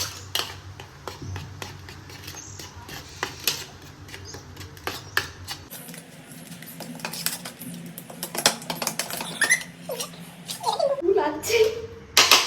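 A metal spoon clinking and scraping against a dish in a home, used instead of hands for a prank, with sporadic sharp taps scattered through nearby talking.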